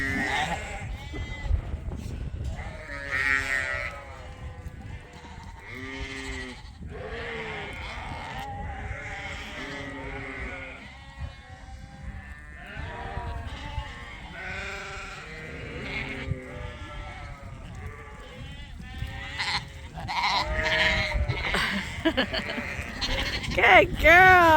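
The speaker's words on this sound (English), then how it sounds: "Oh, and we got a happy ewe there too." Sheep and lambs bleat in a barn, with many overlapping calls from near and farther animals, some high-pitched lamb cries, continuing throughout alongside a person speaking.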